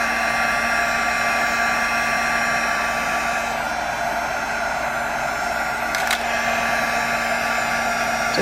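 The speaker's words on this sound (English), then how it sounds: "Just be careful, the heat gun is hot." A heat gun blows steadily and loudly for the whole stretch, melting a printed image into a personalized candle, with a constant whirring hiss and a brief faint click near the end.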